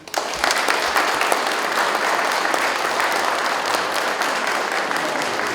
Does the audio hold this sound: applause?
yes